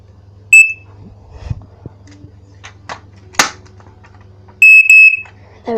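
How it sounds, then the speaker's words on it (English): An EI Electronics EI100B ionisation smoke alarm sounds its test signal: a short piercing beep, a pause with faint household noise and a soft knock, then a longer shrill high-pitched beep close by. "It's pretty high quality smoke alarm from Eco."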